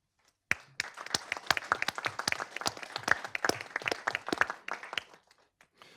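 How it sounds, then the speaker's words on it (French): A small group claps for several seconds at a municipal council meeting, individual hand claps distinct and fairly close, starting abruptly and tapering off at the end. "je vous remercie de bien vouloir les applaudir"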